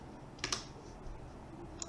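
Keys tap on a computer keyboard during a command-line tutorial, a few quick clicks close together that stand out sharply, with a brief cluster near the middle and another at the end, with no talk.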